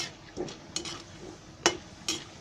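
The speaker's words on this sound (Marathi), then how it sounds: "आता ही डाळ आहे ही घेते तळून" Dal frying in a pan for poha chivda: a faint sizzle under several sharp clinks and scrapes of a spoon stirring against the pan, spaced irregularly across a few seconds.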